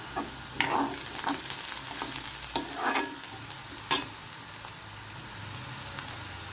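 Mustard seeds, cumin and asafoetida sizzling in hot oil for a raw banana curry, a continuous crackling fry with sharp popping bursts from the seeds, close and fairly loud.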